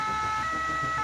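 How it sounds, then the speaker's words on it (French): An ambulance siren sounds steadily in a short burst at moderate distance, a continuous tonal wail over traffic rumble. "Une ambulance part dans la foulée."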